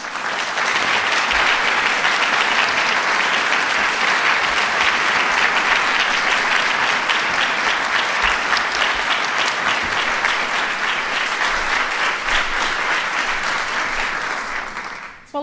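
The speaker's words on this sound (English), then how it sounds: "let's give one more round of applause to today's honorees" An audience at an award ceremony for the 2017 National Medal for Museum and Library Service honorees applauds steadily, a dense sustained wash of clapping that fades out at the end.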